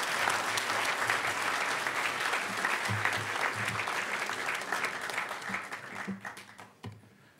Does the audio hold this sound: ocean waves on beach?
no